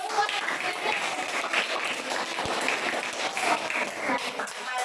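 Classroom applause during a primary science lesson on magnets, a steady wash of many hands clapping at moderate volume across the whole span, with a few louder individual claps and a faint murmur of children underneath.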